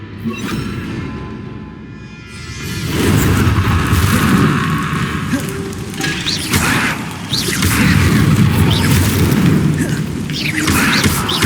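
A Confringo blasting curse in the Hogwarts Legacy video game erupts in a loud, booming explosion with crackling debris, followed by sustained rumbling blasts and whooshes, no voices.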